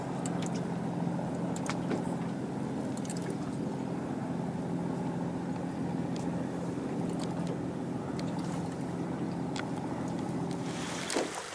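A motorboat cruises toward Desolation Sound in British Columbia, giving a steady low engine rumble with water wash and wind across the whole stretch, without talk.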